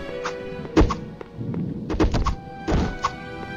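A stick strikes wooden furniture in The Chronicles of Narnia video game, giving a series of hollow thunks and knocks at an irregular pace. The hits are moderately loud over a steady background hum, with no voices.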